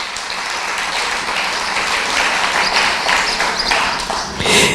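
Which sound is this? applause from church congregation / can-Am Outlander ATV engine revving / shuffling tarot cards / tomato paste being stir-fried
applause from church congregation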